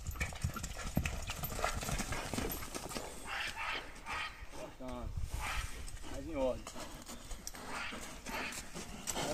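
A horse's hooves clip-clop steadily during vaquejada training, with a dog barking at times and people talking over the outdoor hoofbeats.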